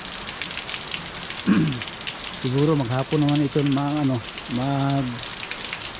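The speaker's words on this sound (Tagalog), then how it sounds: "Ulan." Rain falls steadily outdoors, a continuous close hiss running under a person talking through most of the middle and end.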